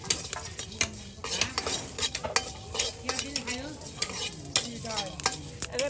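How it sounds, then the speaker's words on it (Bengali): Cumin and garam masala frying in a pan, a close sizzle under constant metal-on-metal stirring and scraping with clinks of a spoon, busy and rhythmic throughout. "এই যে সব কিছু একদম জিরে গরম মশলা একদম সব কিছু কিন্তু আপনার ভেজে নেওয়া হচ্ছে।"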